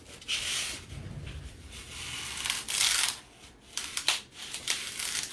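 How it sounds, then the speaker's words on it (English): Scissors pushed down through craft foam, giving rough crunching, scraping crackles in uneven bursts, close and fairly loud, with no talking. "I just take the scissors and push it down through."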